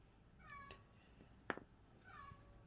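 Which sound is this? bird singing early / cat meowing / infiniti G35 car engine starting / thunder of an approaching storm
cat meowing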